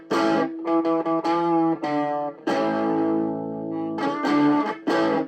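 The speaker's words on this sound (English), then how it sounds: "If we add a low capacitor value at the input, it'll filter out some of the low end and give the distortion a tighter sound" An electric guitar plays through a simple distortion circuit with a 6.8 nF input capacitor that trims the low end. Loud, buzzy distorted notes and chords ring out alone, separated by brief gaps.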